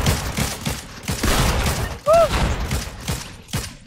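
Video game shotgun fire in Fortnite Battle Royale comes in a dense, busy mix of blasts and impacts, close and loud, with one sharper ringing hit around the middle.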